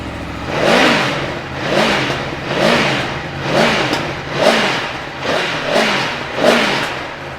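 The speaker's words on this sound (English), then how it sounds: "Fantastic sounding engine, really does sound the business" Repeated throttle blips from a 2018 Aprilia Tuono 1100 V4 RR naked motorcycle engine, roughly seven rising-and-falling revs in steady rhythm, loud and close with no talk.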